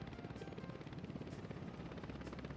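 Helicopter in the Soviet city-building game Workers & Resources: Soviet Republic, a faint, steady rotor chop with fast, even beats over a dense broadband whir.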